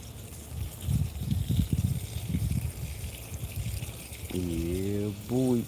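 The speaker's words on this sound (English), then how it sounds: "We just water these until see a little water drip from the bottom." Water trickles and splashes steadily as garden plant pots are watered, with someone talking over the pouring at first, then a short hummed or sung phrase near the end.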